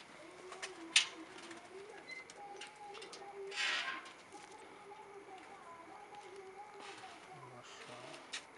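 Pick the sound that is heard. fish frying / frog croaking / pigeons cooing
pigeons cooing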